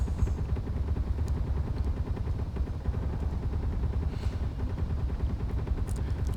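Rapid, steady gunfire shells pound continuously in Space Engineers, a dense mechanical rattle of repeated shots with no talk over it.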